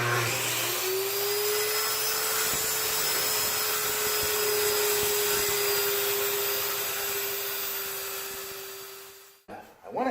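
A power saw cuts a wooden board in half while building a boat transom, a steady loud whine running nearly ten seconds before stopping abruptly, with a brief clatter at the end.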